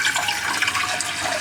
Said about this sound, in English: I just fill this pot with half of the water.